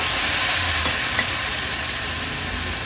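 Clams added to a pan of coconut masala that sizzles loudly and steadily, a dense hiss of frying with low stirring rumble underneath and no voices.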